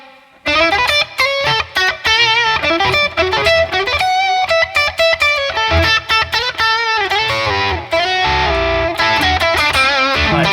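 An electric guitar played loud through a Neural DSP Granophyre amp plugin with slightly driven bite and light short reverb, busy picked riffs and chords running continuously.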